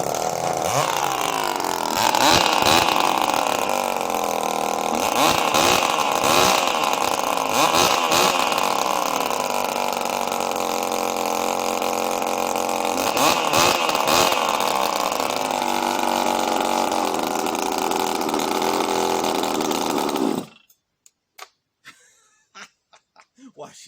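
A Jonsered 670 chainsaw running with its exhaust removed, blaring loud and close at a fast high idle with a raw buzzing drone and occasional revving surges for about twenty seconds before cutting off abruptly into near silence.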